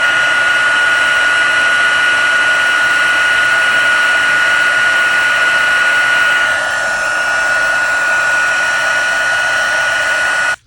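A heat tool blows a steady, loud whirring hum for about ten seconds while heat-setting embossing powder on a handmade Christmas stamped card, then cuts off abruptly at the end.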